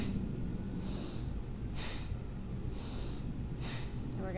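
Rhythmic breathing during slow shoulder shrugs in a calm throat-focused practice, with four airy breath bursts spaced about a second apart, close and moderately loud over a steady low background hum.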